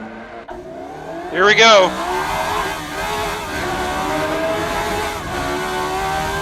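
A Formula 1 race car, such as a 2007 McLaren MP4-22, howls as it accelerates on a hot lap at Monaco. The engine revs rise sharply in one loud, rising surge, then settle into a steady, sustained drone, with a brief spoken line near the start.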